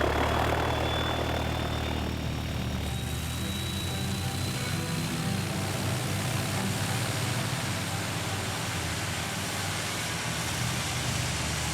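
A fixed-wing airplane takes off on a flight to a village in the Amazon, its engine giving a loud, steady roar and rumble that holds throughout, with a thin rising whine near the start.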